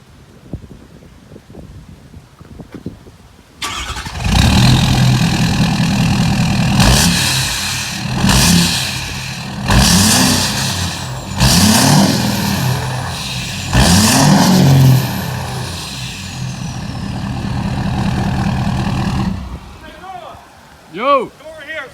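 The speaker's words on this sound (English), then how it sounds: "I'll start it up for you guys. I'll have Noah get by the exhaust. I'm gonna rev it up so you guys can hear it." A tuned, deleted 2016 Ford F-250 Lariat with a 6.7L turbo diesel starts up and idles loudly near the exhaust, then revs repeatedly in several rising bursts before settling back, with talk briefly audible before and after.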